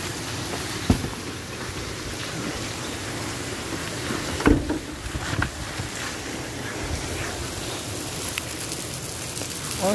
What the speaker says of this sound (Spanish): Está lloviendo horrible, horrible, horrible.